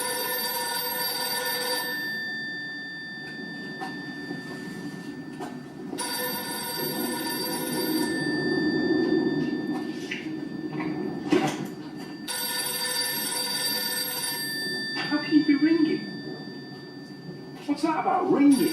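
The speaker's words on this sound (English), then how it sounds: "What am I supposed to do with a ringing phone?" A telephone rings in a Doctor Who drama scene (episode The Empty Child), repeating electronic bell bursts separated by pauses, with people talking between the rings.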